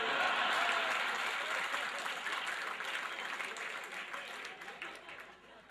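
Audience applause swells loudly at first, a steady wash of clapping from a crowd that gradually fades and thins toward the end.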